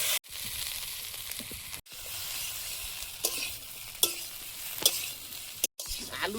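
Potatoes fry in a nearly dry kadai with a ground paste of garlic, dried red chili and cumin, a constant close sizzle broken by scraping stirs and a few sharp clinks of a spatula, with brief dropouts.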